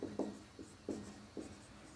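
Chalk writing on a board during a physics class on projectile motion, with faint, soft scraping strokes in an uneven rhythm of short separate marks, heard alone and quiet.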